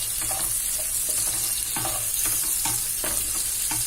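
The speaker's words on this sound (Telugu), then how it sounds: "ఉల్లిపాయలు వేగుతున్నాయి." Onions frying in oil for chicken pakoda dum biryani, a constant close sizzle broken by repeated scraping stirs of a spatula in the pan, with no voices.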